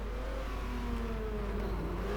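A Jaguar Mark II with a 3.8 litre straight-six engine in the GT Legends racing game, a continuous close engine note with rising and falling revs, no voices present.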